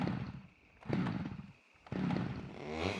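A chainsaw in the Scum survival game sputters through repeated start attempts, short engine bursts separated by gaps, fairly close and moderately loud.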